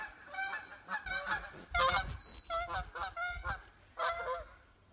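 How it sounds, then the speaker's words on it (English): Geese honk near a garden where potatoes and corn are grown, a series of loud, nasal calls in irregular bursts with brief gaps between them. "Sorry, the geese are honking here."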